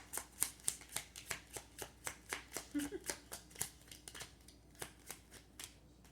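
Tarot cards are drawn and shuffled from a deck, a quick series of crisp, snapping flicks at a fairly even pace, close and soft, with a voice speaking briefly.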